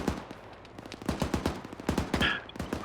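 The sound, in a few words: artillery guns firing in video game ArmA 3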